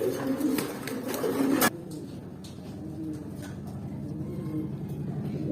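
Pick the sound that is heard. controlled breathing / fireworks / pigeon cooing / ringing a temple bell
pigeon cooing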